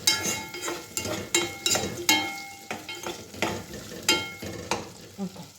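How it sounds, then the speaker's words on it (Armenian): Pieces of chicken leg sizzle and fry in a pan, the steady crackle broken by repeated sharp scrapes and clinks of a utensil stirring against the pan, close and unhurried with no talking. "թողնենք տապակվի"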